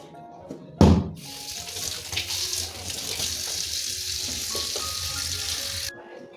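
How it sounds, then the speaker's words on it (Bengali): Fish being washed under a running kitchen tap, with a loud splash at the start, then a steady rush of water and handling noises that stop abruptly near the end. "মাছটা আমি ভালো করে ধুয়ে নিই"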